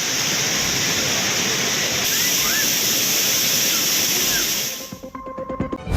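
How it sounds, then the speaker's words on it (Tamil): Floodwater pours over the Courtallam waterfalls, including Old Courtallam, as a loud, dense, continuous roar that cuts off near the end into a quieter, clattering background. "பழைய குற்றாலம் உள்ளிட்ட அனைத்து அருவிகளிலும் தண்ணீர் ஆர்ப்பரித்து கொட்டுகிறது"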